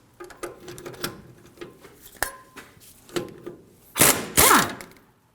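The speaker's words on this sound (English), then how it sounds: "We can remove the bracket with a 19mm socket." A socket wrench with a 19mm socket ratchets in short bursts of clicking on the rear brake bracket bolts of a 2009-2014 Ford F-150, with scattered metallic clinks, ending in two louder, longer ratcheting pulls.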